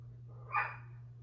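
A single short, muffled dog bark from a dog outside on a balcony, off to the side, over a low steady electrical hum.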